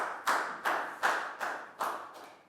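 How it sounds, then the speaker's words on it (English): Classroom applause during a Year 4 lesson: five or six separate, evenly spaced bursts of clapping, each sharp and then fading quickly, fairly close and moderately loud. "Big round of applause for Bangpon"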